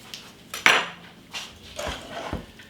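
Peach cobbler filling of canned peaches, lemon juice and butter being stirred in a pot, heard as a few sharp metallic clinks and scrapes of a utensil against the pot, spaced irregularly and fairly close, with no talking.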